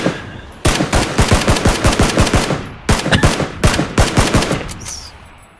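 Rapid automatic gunfire in PlayerUnknown's Battlegrounds, two loud sustained bursts of evenly spaced shots, close and dominant, with a short gap between them and a fading tail.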